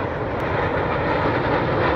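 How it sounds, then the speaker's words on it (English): A Red Arrows jet roars overhead during an airshow display as it pulls up to the vertical, a steady broad engine rush held loud throughout the short stretch with no talk. "Pulling up to the vertical, Red 9 is Flight Lieutenant Dan Lowes."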